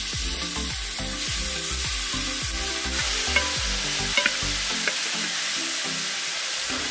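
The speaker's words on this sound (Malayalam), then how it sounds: "എന്നിട്ട് നമ്മൾ നേരത്തെ മാരിനേറ്റ് ചെയ്ത ചിക്കൻ നമുക്കൊന്ന് ജസ്റ്റ് ഒന്ന് ഫ്രൈ ചെയ്തെടുക്കാം." Marinated chicken frying in hot oil for a Christmas biryani, with a loud steady sizzle throughout and the occasional stir or scrape of a utensil in the pan.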